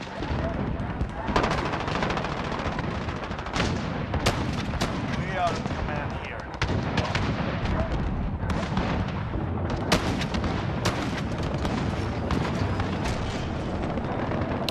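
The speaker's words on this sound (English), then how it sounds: "Oh, I didn't even realize you could shoot rockets out of this shit." Rockets and heavy gunfire boom continuously in Modern Warfare, a dense, loud barrage of blasts and impacts with sharp cracks scattered throughout, and no quiet gaps.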